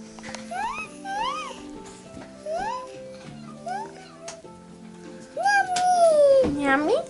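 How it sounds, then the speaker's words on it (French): A small cat's repeated meows blend with a high, sing-song voice; tonal rising calls come every second or so, closing with one longer, louder drawn-out meow. "C'est un petit chat qui fait miaou miaou."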